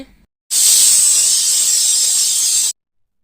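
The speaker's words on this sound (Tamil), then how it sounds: "இப்போ வந்து குக்கரை மூடிட்டு 2 விசில் விடுங்க" A pressure cooker whistle releases a loud, steady hiss of steam for about two seconds, then cuts off abruptly into silence.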